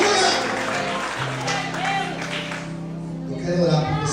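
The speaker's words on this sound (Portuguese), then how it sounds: "Você pode aplaudir ao Senhor essa noite." Applause from a church congregation, steady clapping that runs throughout beneath a preacher's amplified voice and sustained organ-like music.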